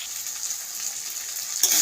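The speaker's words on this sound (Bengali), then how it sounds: "তেজপাতা, দারুচিনি, কাঁচা লঙ্কা, টমেটো, পেঁয়াজ আমি সব তেলের সঙ্গে দিয়ে দিচ্ছি।" Ginger-garlic paste, bay leaf, cinnamon, green chili, tomato and onion fry in oil with a soft, even hiss that swells into a louder burst of sizzling near the end.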